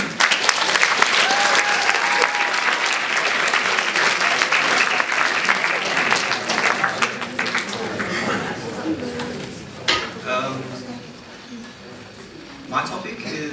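An audience gives a presenter a long, loud round of applause with dense clapping from many hands, tapering in the last seconds into scattered claps and a few chuckles.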